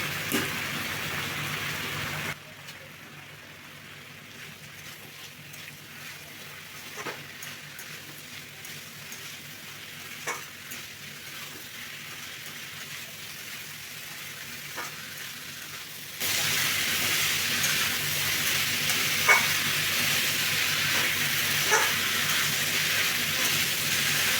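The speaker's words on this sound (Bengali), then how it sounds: "দুটো চেরা কাঁচা লঙ্কা আর দিয়ে দেবো এই খোসাগুলো" Slit green chillies and bottle gourd peels fry with softened potato in a pan for a Bengali dish, a continuous crackling sizzle with scattered pops that jumps louder and brighter near the end.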